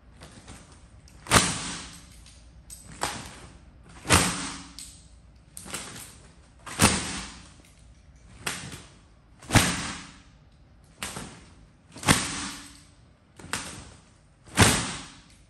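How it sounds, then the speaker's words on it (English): An IronWhip golf training club swung hard in the full send drill, about ten sharp whooshing swings at a steady pace roughly every one and a half seconds, each loud and close with a quick rise and fade. "This drill with the iron whip is called full send."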